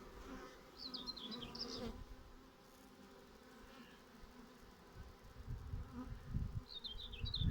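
Honey bees hum and buzz in a continuous close drone around a hive during queen introduction, with a few soft handling knocks and rustles partway through.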